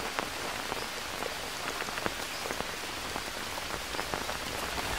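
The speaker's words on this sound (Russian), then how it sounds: "Дождей очень много." Steady, dense rain pours down in the survival jungle of the video game Green Hell, with continuous patter on surfaces and scattered sharper drops for the whole stretch, no voices.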